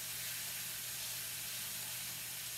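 Ribeye steak sizzling steadily in a pan, a constant close, broadband frying hiss with a low hum underneath and no voices.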